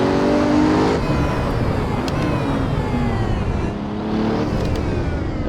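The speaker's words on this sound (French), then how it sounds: "On accélère. Deuxième, troisième, quatrième." Bugatti Chiron engine in the Assetto Corsa racing game, pulling hard as it climbs through the gears, with pitch rising and dropping at each shift under steady loud road and engine noise.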